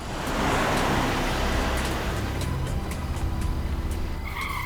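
A taxi pulls away with a steady, fairly loud engine and road rumble, tires hissing as it moves off and fades slightly over several seconds, no talk.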